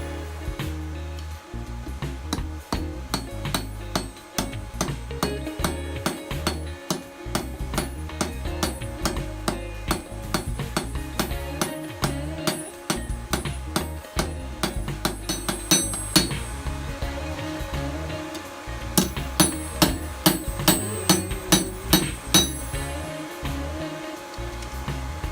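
Blacksmith hammering hot steel to thin and taper a forged spoon, a long run of sharp ringing metallic blows at a steady rhythm, loud and close, with occasional lighter taps between strikes.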